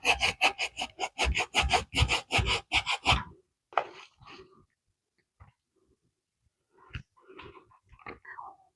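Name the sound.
grating fresh cassava root by hand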